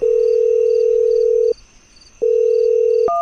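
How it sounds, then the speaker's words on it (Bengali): A telephone rings as a sound effect in an audio drama: two long steady electronic tones separated by a short pause, loud and clean with nothing else behind them. "ঠিক এমন সময় ফোন বেজে উঠল"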